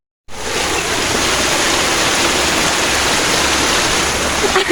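A small waterfall pours into a canal, a loud, steady, close-up rush of falling water that starts abruptly and holds without a break.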